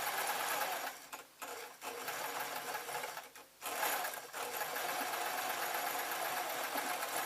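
A sewing machine stitches a blouse, running loud and steady with two brief pauses before it carries on whirring.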